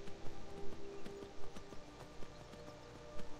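Horse hooves clop along a road in Skyrim, an irregular quick beat of soft thuds, moderately close and fairly quiet, with nothing else much around them.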